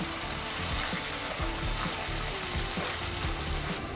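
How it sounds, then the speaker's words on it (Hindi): Mutton keema cooks over a high flame in its own released water, giving a steady, loud sizzling bubble with faint stirring scrapes and no voices. "तो इसी पानी में हमें कीमे को पकाना है।"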